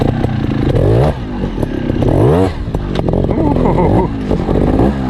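A 2019 Factory Sherco trials motorcycle climbs a steep uphill section in first gear, its engine revving and bogging in repeated surges with clatter and scraping, close and loud.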